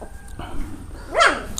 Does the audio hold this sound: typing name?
no